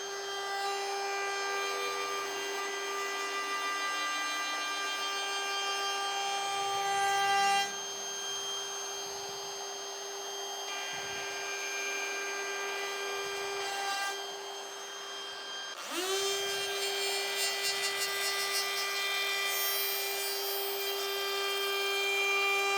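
A router cuts a wooden board with a loud, steady high-pitched motor whine running throughout, its pitch dipping briefly partway through before resuming.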